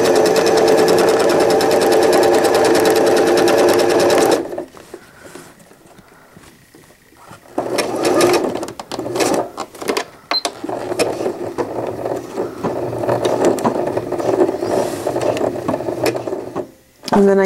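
Loud, steady sewing machine stitching on a fitted crib sheet runs for a few seconds, then stops, giving way to softer rustling, clicks and intermittent mechanical handling noises.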